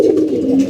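Cooing from Makra pigeons of the Chila variety, male and female, kept in a loft: a steady low throaty coo, continuous and fairly close across the short stretch, with no voices.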